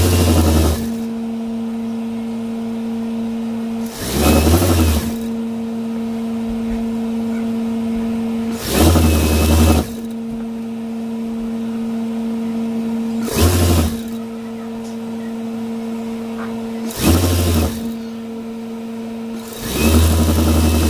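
Sewing machine stitching around the folded hem of a T-shirt sleeve, a steady droning whir running continuously with a sharper burst roughly every four seconds, close and loud with no talking.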